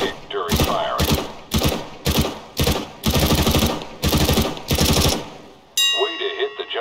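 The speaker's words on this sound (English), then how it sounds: "Pick up that weapon and unload the clip into the target." Weapon fire in Counter-Strike: Global Offensive at a training target, loud close bursts of automatic shots in about eight separate rhythmic volleys with short gaps, ending in a ringing metallic ding.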